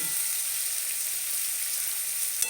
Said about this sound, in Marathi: टमाटर बी टाकूया थोडंसं भाजायला